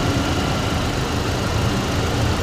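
A 2.9-liter Vortec engine in a 2008 Chevy Colorado idles steadily up close, a constant low rumble with no voices.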